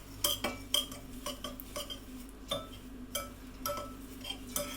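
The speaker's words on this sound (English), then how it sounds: "I'm just going to gently stir those in with a knife." Oats and sugar gently stirred together with a knife in a bowl for a crumble-style dessert, producing a steady run of light metallic ticks and clinks against the bowl, close and quiet with no talking.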